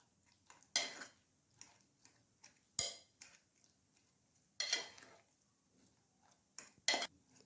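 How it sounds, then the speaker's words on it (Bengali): Fork mashing roasted eggplant with potato in a bowl, giving a handful of sharp metallic clinks and scrapes against the dish, spaced irregularly between soft, quiet squishing. "আমি একটা কাঁটা চামচ দিয়ে আলু বেগুনটাকে একটু ম্যাশ করে দিচ্ছি"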